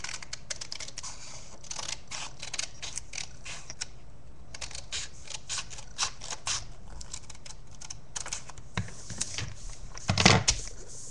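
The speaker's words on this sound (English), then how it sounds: "But I have scissors, so I am going to cut it off." Scissors snip through paper folded for a paper fortune teller, a run of quick close crisp cuts with short pauses and a louder rustle near the end.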